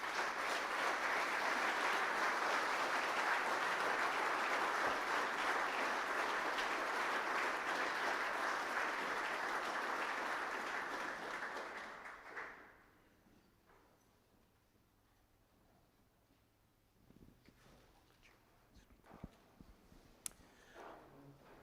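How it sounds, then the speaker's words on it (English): An audience at a government awards ceremony gives a round of applause for an honoree's family, loud steady clapping for about twelve seconds that fades out into a quiet room with faint movement. "Let's give them a round of applause."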